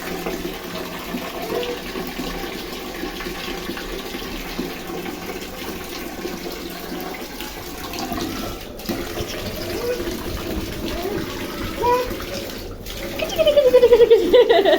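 Water splashing and running over a child's head during a bath, a continuous trickle and pour with a louder gush near the end, while a voice speaks over it.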